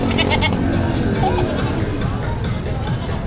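Goats bleating amid a crowded cattle, goat and carabao market in Padre Garcia, Batangas, the calls rising over a dense, constant hubbub of voices.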